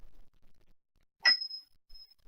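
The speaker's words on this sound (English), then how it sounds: "is a bell. Notice again, it's not metal." A single strike of a non-metal altar bell gives a short bright ring with a thin tone that lingers and fades, alone in a near-silent room.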